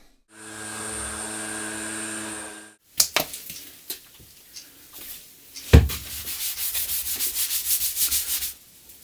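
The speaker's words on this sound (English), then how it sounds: "Sanding." Wood being sanded for a laptop armrest table, with a steady power-tool whine first, then a pause and scattered knocks, followed by rhythmic, surging rasping strokes that grow louder, close up and with no talking.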